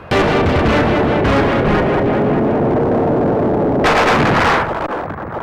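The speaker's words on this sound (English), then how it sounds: "some decent sound effects, the laser blasts, the explosions" Laser blasts and explosions from the SNES game Star Fox, a dense, loud run of rapid shots and booming bursts with a sharper bright blast near the end before it fades.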